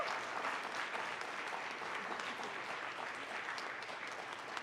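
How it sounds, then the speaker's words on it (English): An audience applauds alumni at a college convocation, a steady, even roar of clapping from a large room, sustained for several seconds at a moderate level. "Let's give them a round of applause."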